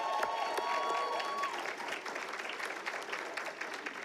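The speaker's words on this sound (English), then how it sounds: "Let's give her a round of applause." An audience gives a steady round of applause at a sports awards ceremony in Bermuda, a dense clapping that holds at a moderate distance for the whole stretch.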